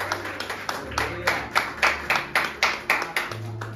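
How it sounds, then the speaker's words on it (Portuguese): A church congregation clapping in a steady, even rhythm, about ten firm claps in a row, close and clear with no talk over them. "Aplauda o Senhor em nome de Jesus"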